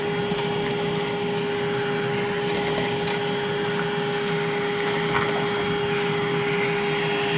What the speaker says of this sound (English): Just for fun, we'll suck up a little bit of